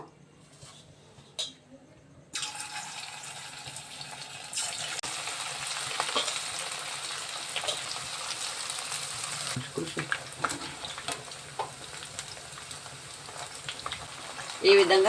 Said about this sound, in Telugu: ఇప్పుడు ఆయిల్ కాగబెట్టేసి ఆయిల్లో ఒక్కొక్కటిగా వేసి ఫ్రై చేసుకుందాము